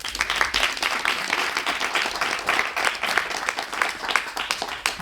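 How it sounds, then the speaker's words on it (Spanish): Sustained applause from a small group, loud and close, a dense even patter of clapping for several seconds. "Venga, un aplauso para Raquel."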